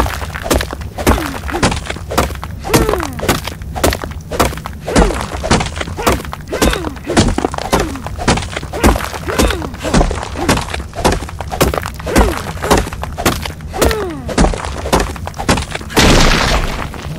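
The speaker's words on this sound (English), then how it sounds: "An unnecessarily loud explosion" Explosion in the video game Ark Survival Evolved, heard as a long run of loud, rapid booming thuds and cracks with shattering debris, packed densely and continuously for about seventeen seconds before a final burst.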